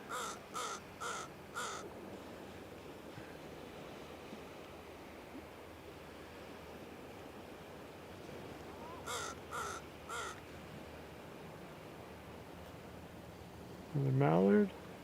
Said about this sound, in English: This crow's asking to be on